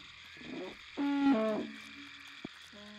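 Bird calls in a prehistoric survival video game, a series of tonal hooting and cooing notes mid-clip with a brief click after, fairly close over a soft ambient bed.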